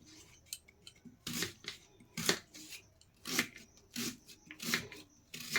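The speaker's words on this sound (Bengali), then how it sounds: "এখন আমি পেঁয়াজ, রসুন, কাঁচা লঙ্কা এগুলো আমি কুচিয়ে নেব ভালোভাবে।" A knife chops finely through onion, garlic and green chili on a cutting board, with crisp rhythmic bursts of cuts spaced roughly a second apart, close and clear.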